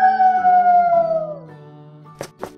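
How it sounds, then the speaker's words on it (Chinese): A cartoon wolf lets out a long, loud howl that slowly falls in pitch and fades, followed by two short sharp thumps. "小狼小狼，这是你的叫声吗？"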